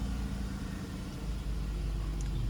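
A high-mileage Audi A4 convertible idles steadily, its low engine rumble continuous and close throughout as the revs settle down.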